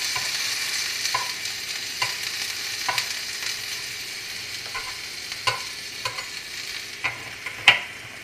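Prickly cactus sandwich pieces fry in a pan, a steady soft sizzle with occasional sharp pops and clinks of stirring, fairly close and without talk.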